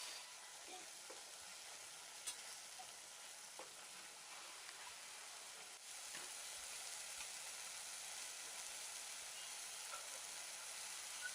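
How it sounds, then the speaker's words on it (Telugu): Ginger-garlic paste fries in a pan for a crab curry, a faint, continuous sizzle broken by a few light clicks and scrapes of stirring. "అల్లం వెల్లుల్లి ముద్దను కూడా వేసి, అంటే అల్లం 1 టీ స్పూన్, వెల్లుల్లి ముద్ద 1 టీ స్పూన్ వేసి పచ్చివాసన పోయే వరకు వేగనీయండి."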